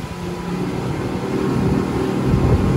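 Honda BF350 V8 outboard engine driving a boat, a steady loud low-pitched drone that swells slightly as it runs, with no talking over it.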